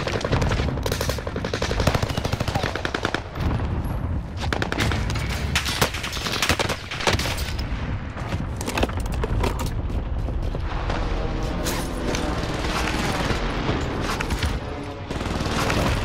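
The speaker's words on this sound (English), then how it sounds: "Why are you shooting your teammate?" Video game gunfire crackles in rapid, dense bursts of automatic shots and heavy booms, loud and nearly continuous throughout with only brief gaps.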